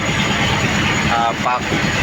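A fishing boat runs on only one engine because the other engine's transmission is broken. Its loud, steady, close engine drone goes on without a break, with a voice heard over it.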